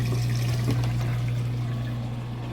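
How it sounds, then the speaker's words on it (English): A Whirlpool washer's drain pump pushes water out during the final spin, giving a steady loud hum with rushing, gurgling flow, close and continuous throughout. "Got the drain pumping that water out nice and fast."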